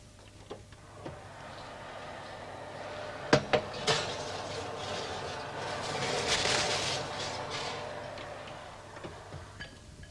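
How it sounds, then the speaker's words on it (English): A metal roasting tray slides into a kitchen oven and a cooked tray of potatoes comes out, with a few sharp metallic clanks and knocks of oven door and racks over a low room hum, no talking. "I'll go and put this in the oven, and I'll take the ones that we've been cooking"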